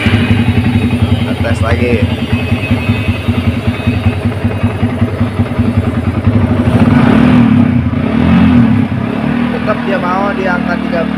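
A Yamaha Vixion motorcycle engine, which has a battery that won't charge and a burnt stator coil, runs steadily nearby and rises into a louder rev partway through while someone talks over it.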